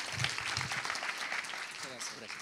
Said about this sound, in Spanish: Un fuerte aplauso nuevamente para él